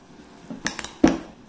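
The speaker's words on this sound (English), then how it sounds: "give it a thorough mix" A spoon knocks a few times against a bowl while stirring a pierogi filling of fresh cream, caramelized onions, chives and salt and pepper: scattered clinks, then one louder knock, close and otherwise quiet.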